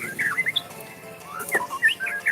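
A caged songbird chirps in short, bright, whistled bursts, close and fairly clear, with a few quick rising and falling notes over a soft background hum.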